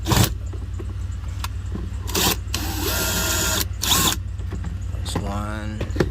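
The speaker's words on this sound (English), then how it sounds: "if you have a drill like me, let's take it off." A power drill backs out the screws holding the cabin filter cover on a 2005 Acura TL, giving several short whirring bursts over a steady low hum, close by.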